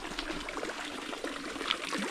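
Weak water flows in a steady, faint trickle and pour at a tilapia pond during harvesting, a soft continuous wash with no voices.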